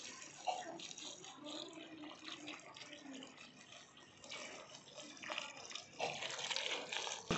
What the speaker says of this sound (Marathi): अशा पद्धतीने मी याच्यामध्ये पाणी भरत आहे